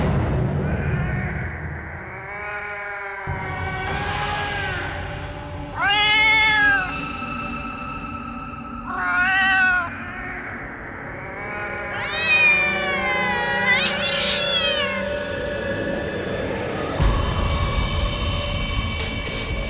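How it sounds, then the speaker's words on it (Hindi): A cat meows several times in short, rising and falling calls, fairly close, over a low background rumble in a horror drama scene. "ये तो वही बिल्ली की आवाज है"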